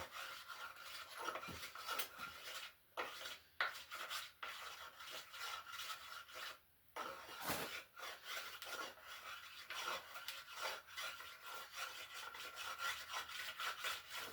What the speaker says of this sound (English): Just trying to put a nice 45-degree chamfer on this.